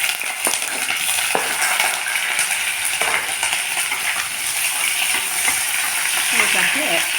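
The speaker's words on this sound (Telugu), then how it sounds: "ఉల్లిపాయలు కాస్త ఎర్రగా వేగాలండి." Onions and green chilies fry in hot oil for a vegetable curry, giving a steady, close sizzle with occasional stirring clatters and scrapes throughout.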